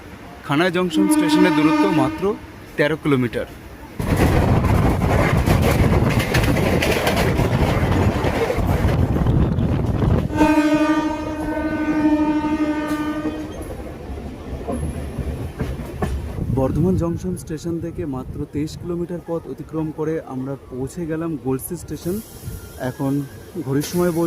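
A local passenger train runs from Bardhaman toward Deoghar, its steady rumble and rail clatter broken by long, loud horn blasts, with people talking aboard over the running noise.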